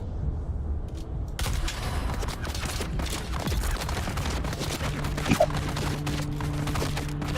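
Rapid gunfire in the video game Dune: Awakening, a dense continuous crackling volley of shots that starts abruptly and keeps going at a steady loud level, with no talk.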